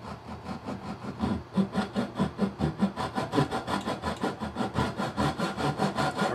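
A hand saw cuts wood for a dovetail joint, likely a thin flexible saw rather than a rigid back saw. Its steady back-and-forth rasping strokes are close and loud and repeat at an even rhythm with no talk.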